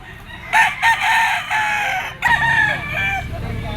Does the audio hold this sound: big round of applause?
no